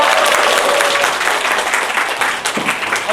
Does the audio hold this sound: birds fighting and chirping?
no